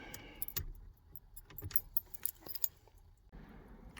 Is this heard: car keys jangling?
yes